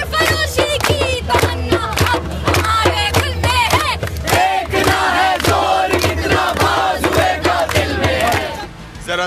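A large crowd of protesting students in Pakistan chants and shouts together in loud, rhythmic bursts, many voices overlapping continuously at close range.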